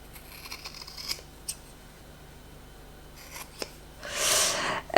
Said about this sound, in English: So I'm going to cut from the one that is going to be hidden